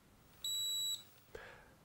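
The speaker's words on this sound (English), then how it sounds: "When the time has run out, the laser will beep and stop on its own." An RJ LaserPen treatment laser emits a single piercing electronic beep lasting about half a second at the end of its treatment timer, followed by a faint click in a quiet room.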